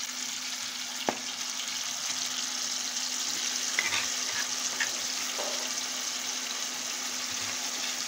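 Beef steak and chile sizzling in a pot, a steady loud frying hiss throughout with occasional stirring clinks and a single sharp knock.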